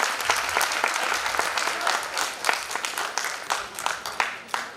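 Loud, sustained audience applause fills a founder's day celebration hall, a dense steady wash of many hands with a few sharper claps standing out.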